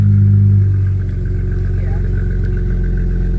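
A Dodge Challenger engine, nicknamed the Silverback, runs loud and close, with a steady low rumble that holds throughout and dips slightly after the first second.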